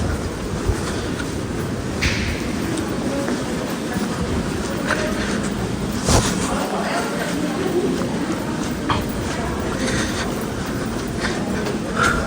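Train rolling into a station platform in Switzerland, a steady rumbling wash with occasional clanks and squeals, pigeons cooing nearby over the constant noise.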